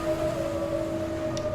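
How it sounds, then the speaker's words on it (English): Eerie singing of sirens as a tabletop role-playing game sound effect, a sustained pair of steady, haunting tones held evenly like a wordless drone with faint low murmur beneath. "And what you hear is singing."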